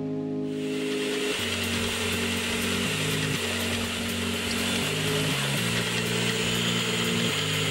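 A clockmaker drills oil sinks in the ends of pivot holes in a clock plate with a standard twist drill, then a roller cutter. A steady machine whine shifts in pitch several times as the cut loads and eases.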